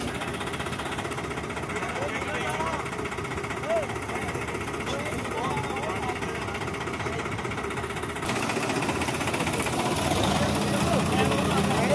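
A stuck combine harvester's engine runs steadily with a rough, rumbling drone that grows louder near the end. It continues throughout under background voices and field noise.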